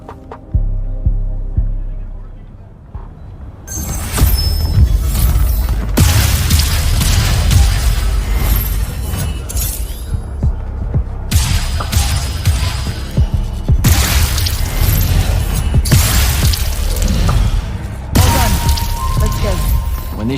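Magic shooting blasts in the video game Immortals of Aveum, a dense run of booming, throbbing bursts over a steady low hum and score, loud and continuous after a quieter opening, with no talking.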